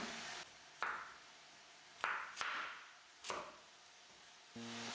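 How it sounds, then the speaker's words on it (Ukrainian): A knife cuts carrot into large chunks on a board, four or five distinct, crisp chops spaced irregularly, quiet and close, with a steady background hiss of frying between them. "Морку нарізаю досить крупними шматочками."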